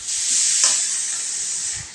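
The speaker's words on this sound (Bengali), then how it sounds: "এবার পেঁয়াজটাকে হালকা ভেজে নেবো" Steady, close-up sizzling of onions frying in hot mustard oil, a continuous bright hiss with a brief stir near the middle; no voices.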